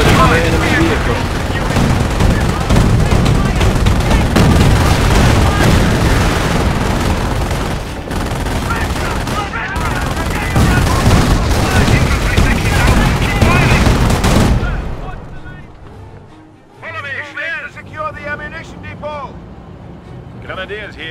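Machine gun fire roars in the Company of Heroes World War II strategy game, dense continuous bursts and booms of battle for most of the time, then fading to scattered shots while soldiers' voices call out over it.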